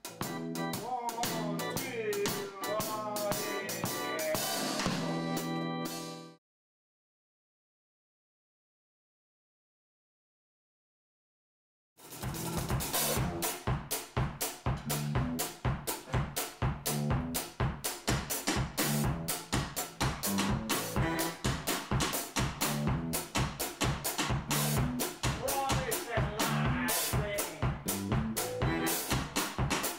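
A local band from Nanaimo jams live in a loud, busy, full-band passage that stops abruptly for several seconds of silence and then resumes with steady driving beats.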